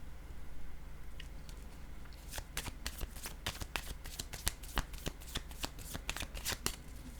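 Two mixed decks of playing cards are shuffled, a soft rustle giving way to a rapid series of crisp riffling flicks and snaps, close and fairly quiet.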